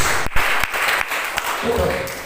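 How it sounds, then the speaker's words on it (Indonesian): Congregation clapping together during a church service, a dense steady patter of applause lasting a couple of seconds, close and fairly loud with a voice over it. "Beri tepuk tangan terbaik buat Tuhan Yesus"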